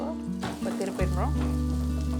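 A rice roti made from cooked rice fries on an oiled pan with a steady, close sizzle that runs the whole time, joined by brief scraping and stirring sounds near the start.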